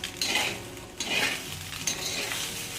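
Cooked jeera rice is stirred and tossed in a pan with a spoon, giving three soft scraping strokes with a faint sizzle, close up and with no talking.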